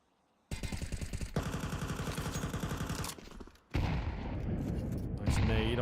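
A grenade goes off during a Counter-Strike match, part of a steady, loud stretch of game combat with rapid rhythmic gunfire, a short drop in level, then a heavy blast and sustained rumble.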